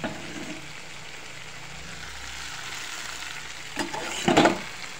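Green peas go into potato gravy frying in a pan. A steady sizzling hiss runs throughout, then brief louder splashes and clatter rise near the end.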